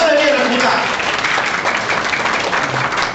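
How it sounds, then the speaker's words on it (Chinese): Warm applause fills a banquet hall at the founding gala of a Taiwanese business association in the Solomon Islands, a dense, sustained clapping from the crowd that carries on throughout. "我们给他热烈的鼓掌"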